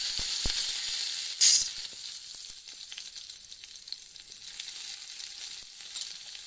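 Curry leaves frying in hot oil for a tempering with cumin, mustard seeds, dried red chillies and garlic, making a close, steady sizzle with a sharp crackling burst early on, then settling into a quieter hiss.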